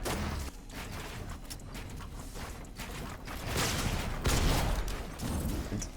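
Gunfire in the Fortnite video game, a dense stretch of rapid shots and bursts with whooshing and mechanical game effects, loud and continuous across six seconds with no talk over it.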